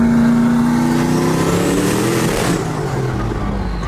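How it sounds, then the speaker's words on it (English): Camaro engine running loud and close, a dense steady roar with a falling whine as the revs drop, heard alone without talk. "Got the car starting up."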